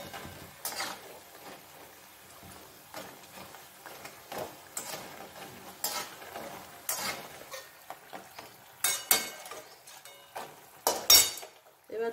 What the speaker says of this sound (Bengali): ধীরে সুস্থে ভাজা করতে হবে।